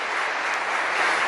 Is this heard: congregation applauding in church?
yes